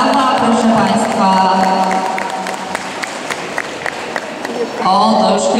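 A crowd at an outdoor show claps and cheers after a dog climbs onto a bowl with all four paws, with an announcer talking over the applause, which dips and then swells again near the end.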